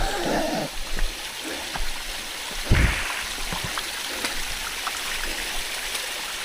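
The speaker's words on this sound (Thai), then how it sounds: "ท่อมันแตกอยู่ตรงนี้" Water gushes steadily from a broken pipe at Hin Lat Waterfall on Koh Samui, a constant rushing hiss, splashing and spattering nearby, with an occasional heavier splash.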